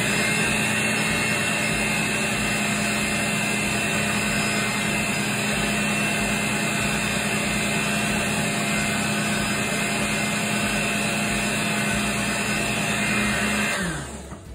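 An electric mixer beating boxed cake mix batter, a steady loud whirring motor drone held evenly for the whole stretch before winding down at the end, with no talk.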